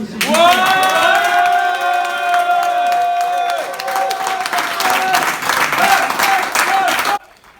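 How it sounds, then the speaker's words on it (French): Audience applause and cheering for a tournament finalist at a board game event, a dense, steady burst of clapping lasting several seconds with tonal music-like lines running underneath, then cutting off abruptly. "Des applaudissements pour Poc Poc."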